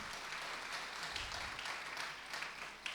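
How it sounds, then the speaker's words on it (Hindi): An audience at a Jain religious sermon claps together in a steady, dense patter of applause, heard fairly close and continuing for a few seconds. "ताली बजाओ, थोड़ा"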